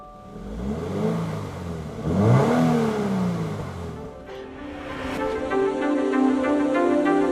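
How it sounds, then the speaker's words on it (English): A Toyota GR86 sports car engine cranks and catches, its revs rising in a swelling flare before settling into a steady, close idle hum. "This is what it sounds like to start the Toyota"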